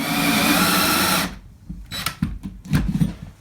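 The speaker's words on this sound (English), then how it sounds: "All right, so we got the hole drilled." A power drill boring a hole through a wall during a DIY off-grid solar installation, running steadily and loud close by for over a second, then stopping, followed by scattered knocks and handling clatter.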